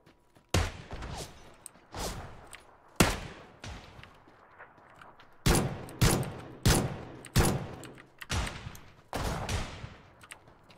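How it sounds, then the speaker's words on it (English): Shotgun fire in the video game PUBG: around a dozen sharp booming blasts at irregular intervals, each with a short decaying tail, some louder and nearer than others, with no talk. "It sounds like that's a shotgun."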